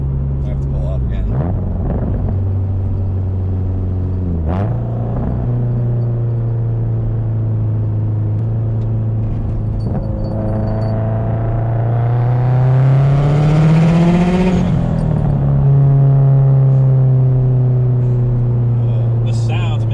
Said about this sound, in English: That blow-off valve is really excessive, but it's just so much fun.